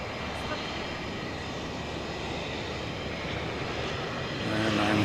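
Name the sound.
American Airlines Airbus A321 jet aircraft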